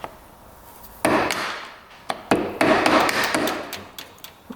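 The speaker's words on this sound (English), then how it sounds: "you'd have to hammer it like I'm going to do right now" A hammer strikes a crimped-over metal tab on a 2-stroke dirt bike to free a nut, several sharp, loud blows in an uneven rhythm, some followed by quick lighter taps, close by.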